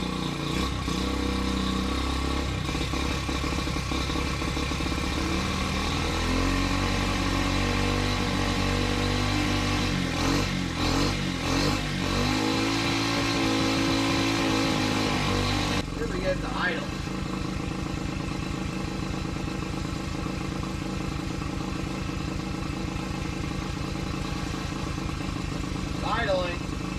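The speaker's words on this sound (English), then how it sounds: "Actually idles nice." A Honda CT70 fitted with an XR70 carburetor idles nearby with a steady, continuous engine sound throughout, and a voice speaks over it at times.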